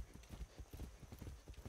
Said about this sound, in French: C'est bien, bon cheval.